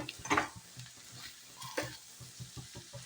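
Carrot pulao with coriander and cashews gets stirred in a pan: a few scraping strokes of a spoon against the metal over a soft sizzle, fairly close and without any talking.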